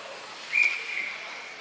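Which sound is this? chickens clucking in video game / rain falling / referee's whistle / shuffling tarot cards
referee's whistle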